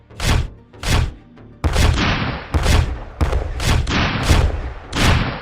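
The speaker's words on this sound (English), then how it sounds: "Last action, shooting at the mouse." Gunshot sound effects in a Malifaux tabletop battle as a mouse is shot at, about six heavy, booming shots spaced roughly half a second to a second apart, loud and alone.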